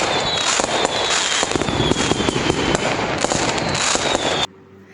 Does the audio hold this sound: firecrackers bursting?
yes